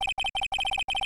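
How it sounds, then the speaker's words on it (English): Electronic phone ringtone from the video game Phoenix Wright: Ace Attorney, a quick series of bright, evenly spaced beeping trills in short bursts, clear and alone. "I heard a phone ring just now."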